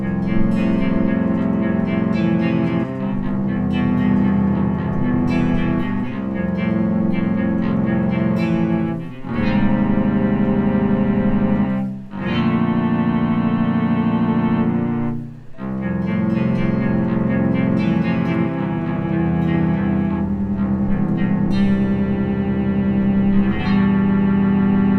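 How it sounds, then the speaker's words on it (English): A low string patch on a Yamaha FB-01 FM synthesizer plays loud, sustained, buzzy chords that change a few times, with brief dips between phrases and no voices. "A low string sound,"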